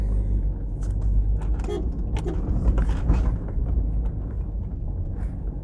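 A four-wheel drive vehicle grinds up a steep hill on a construction road, its engine a loud continuous low rumble close by, with rattling and knocking from the cabin and bumpy terrain throughout.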